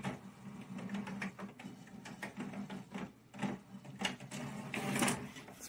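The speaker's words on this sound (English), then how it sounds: "It's printing out." A home printer feeds and prints a page onto plain printer paper, giving a rhythmic run of mechanical clicks, whirs and carriage movements, fairly faint and close, with no talking.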